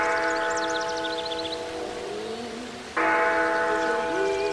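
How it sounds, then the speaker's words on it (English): The tower clock at Disneyland's Cinderella Castle chimes in sustained, ringing bell tones that swell again partway through, with faint birdsong above and no one speaking. "If you listen carefully, you can hear the chimes of the tower clock."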